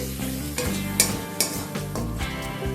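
Green chili paste being stirred and fried in a pan for a spinach chicken dish, a soft continuous sizzle broken by a few sharp scrapes and taps of the spoon against the pan.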